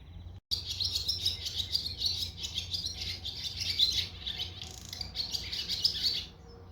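Birds chirp and tweet steadily in a park, a dense chorus of bright, overlapping calls carrying on without pause over a low background hum.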